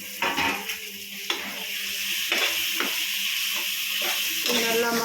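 Large tomatoes and onions frying in a pan for tomato rice, stirred with repeated scraping strokes over a steady close sizzle, with faint talk now and then.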